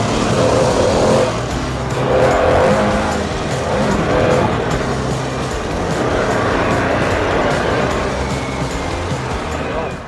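A Harley-Davidson Pan America adventure motorcycle's engine gives a loud, steady rumbling drone, close by. It swells slightly a few times and is mixed with broadband road or wind noise throughout.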